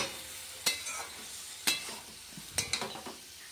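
Leafy greens being stirred and fried in a pan, a soft continuous sizzle broken by several sharp scraping strokes of a spatula against the metal, close and fairly quiet.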